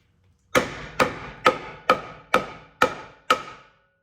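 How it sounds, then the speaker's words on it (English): Seven evenly spaced hammer taps on a block of wood, driving a ball joint into the lower control arm of a 1991 Ford Probe; sharp, close, moderately loud knocks about half a second apart, with no talking. "So tap that ball joint into place. Put your block of wood right here on the control arm. You can just tap it."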